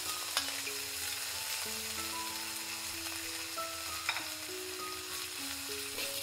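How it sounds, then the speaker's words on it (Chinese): Ham frying in a few grams of oil in a wok, a soft continuous sizzle with stirring scrapes and two sharper clinks, quiet and close, with faint steady tones running underneath. "火腿先进去。 但凡是肉类，那都得要煎一下"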